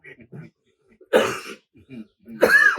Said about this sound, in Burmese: အခုချောင်းဆိုးလိုက်ပါလား